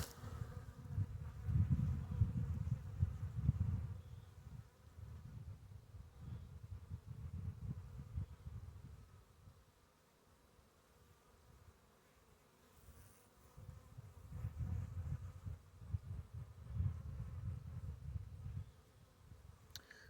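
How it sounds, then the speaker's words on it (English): Bees buzz low and steady around aster flowers close by, the hum swelling and fading as insects come and go, with a quieter lull in the middle. "Definitely see pollen on these bees."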